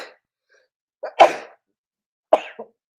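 Two close sneezes, each with a quick intake of breath before it, separated by about a second of silence.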